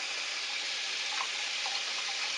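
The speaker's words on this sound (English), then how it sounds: "Let's go ahead and wash this turkey in between real good." Tap water runs steadily into a kitchen sink while a whole holiday turkey is washed, a continuous close hiss with faint splashing changes and no voices.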